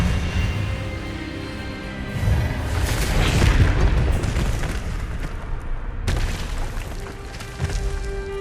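An Expelliarmus spell blast in the video game Hogwarts Legacy roars as a dense, booming wash of energy, with a low rumble and crackling bursts that swell and fade over several seconds.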